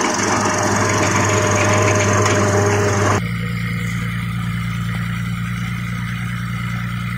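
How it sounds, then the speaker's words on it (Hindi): A tractor-mounted trencher digging a trench runs with a steady droning engine and grinding, rattling scrape; the sound is loud at first, then drops abruptly to a quieter continuous hum partway through. "ये देखो मैं दिखाता हूँ इसकी ट्रेंचिंग, दिखा रहा हूँ इसकी, ये ट्रेंचिंग भाई ऐसे कर रही है।"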